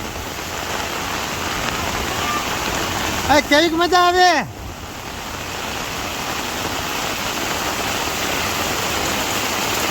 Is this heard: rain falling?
yes